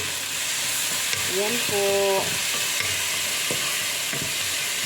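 Tomatoes tossed into a hot frying pan and stirred, a steady broadband sizzle running throughout with a few brief scraping stir strokes and short tonal clinks, while a voice speaks briefly nearby.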